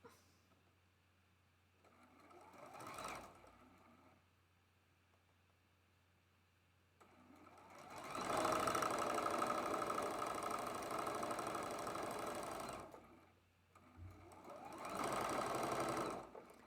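Sewing machine stitching a quilt seam on a four-patch tulip block, heard in one short burst and then two longer runs, moderately close against a quiet room.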